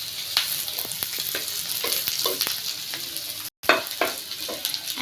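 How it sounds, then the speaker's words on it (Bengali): Onion, garlic, ginger, dried chili and beef fry in hot oil with a steady close sizzle, broken by several sharp stirring scrapes and a brief drop to silence before the sizzling resumes. "এখন এগুলো আমি ভেজে নিচ্ছি। পেঁয়াজ, রসুন, আদা, শুকনো মরিচ এবং মাংসটাও।"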